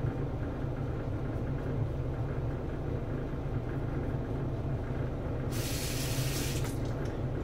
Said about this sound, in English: Okay, let's rinse off for the last pass.